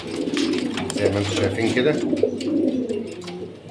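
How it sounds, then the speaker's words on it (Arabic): French meat pigeons cooing in a shop, soft repeated coos under someone talking throughout. "دي الحمامة لسه واصلة المحل"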